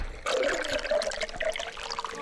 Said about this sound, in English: Okay, I've filled the urns with water.